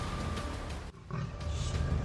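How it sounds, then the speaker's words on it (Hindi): A leopard caught in a forest department trap and held in a cage lets out a rough, rumbling roar, partly buried in broad hiss and noise, with a brief dip midway. "तेंदुए की ये दहाड़ डराने वाली है।"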